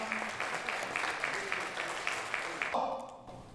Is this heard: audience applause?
yes